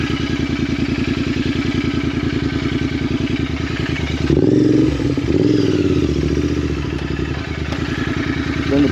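A Royal Enfield Continental GT 650 motorcycle rides along with a loud, steady twin-cylinder thrum, and a brief surge of revving and clatter partway through.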